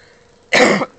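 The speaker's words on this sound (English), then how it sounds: "I just got the coughs today." A single short, sharp cough from a person with a cold, close and fairly loud, lasting under half a second against near silence.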